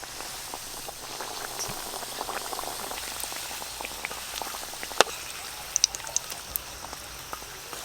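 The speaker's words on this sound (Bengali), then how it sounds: "মোগলাই কিন্তু অল্প আঁচে ভাজতে হবে" Soft, steady sizzling of a chicken Mughlai paratha frying in oil over low heat, close by and fairly quiet, with a few small pops and crackles.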